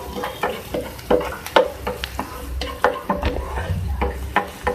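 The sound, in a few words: chopped onion frying in oil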